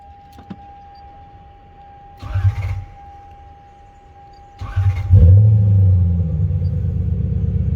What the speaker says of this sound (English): let's see if this car starts up